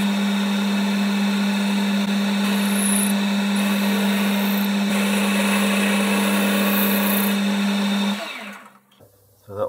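A metal lathe facing the burred, drilled end of a spindle for an ER20 collet holder with a boring bar, giving a steady loud motor hum and cutting whine that runs continuously for about eight seconds before spinning down and stopping.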